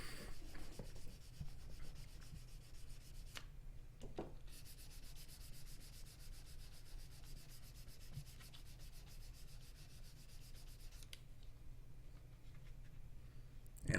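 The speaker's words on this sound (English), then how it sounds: "then I'm just going to give it a real quick sanding. I think this is with a 400 grit paper." Fine 400-grit sandpaper rubs steadily back and forth across a knife blade, a soft continuous scratchy hiss with a couple of brief pauses.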